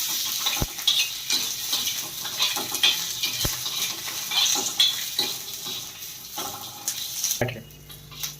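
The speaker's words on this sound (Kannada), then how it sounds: "ಒಂದು ತೆಮೆ ಇಟ್ಟು ಅದರ ಮೇಲೆ ಮೆಣಸಿನ್ಕಾಯಿ ಹಾಕಿ ಚೆನ್ನಾಗಿ ಹುರಿದುಕೊಳ್ಳಬೇಕು" Capsicum frying in a pan, a soft crackling sizzle with scraping stirs and a few sharp taps of a utensil on the pan, then a brief clatter near the end.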